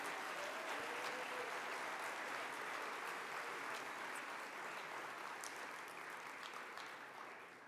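A medical school Match Day audience gives a sustained round of applause for faculty advisors, a dense even roar of many hands heard from some distance, holding steady and fading slightly at the end.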